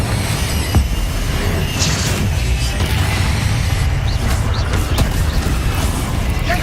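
Confringo spell blasts in Hogwarts Legacy, a steady roar of booming, crashing explosions and fiery impacts layered continuously with no pause, loud and dense throughout.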